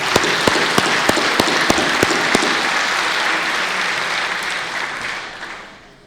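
Crowd at a Special Olympics Canada awards ceremony gives sustained applause, a dense wash of clapping with a few sharp, prominent claps early on, fading out toward the end.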